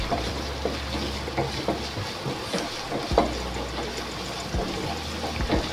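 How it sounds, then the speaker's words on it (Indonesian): Minced garlic sautés in hot oil with a soft, continuous sizzle, close by and fairly quiet, with occasional light clinks and stirring knocks. "Minyaknya sudah mulai panas. Masukkan bawang putih cincangnya ya. Kita tumis sampai warnanya kecoklatan."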